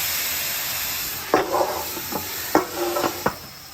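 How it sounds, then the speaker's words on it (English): Food frying in beef tallow on a Blackstone griddle with water added to make steam: a steady sizzling hiss runs throughout, broken by several sharp bursts of crackle and spatter, close and moderately loud. "We're going to add a little water, allow that steam to happen."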